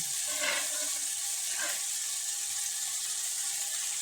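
Homemade chili powder is stirred into a simmering chicken curry, a steady bubbling sizzle with two soft scraping strokes of a ladle early on, close and continuous.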